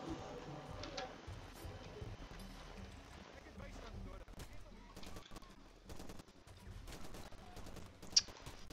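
Machine gun fire in Far Cry 2: scattered, quiet bursts of rapid shots with sharp cracks spread across the stretch and one louder report near the end, over a low murmur of ambient game sound.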